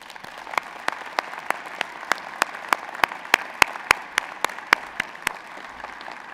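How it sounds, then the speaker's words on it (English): An audience applauds at a family medicine event, a steady round of clapping with sharp individual claps standing out over the wash of hands for several seconds, no voices. "join me in thanking them by a round of applause"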